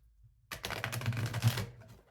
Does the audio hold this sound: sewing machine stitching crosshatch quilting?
no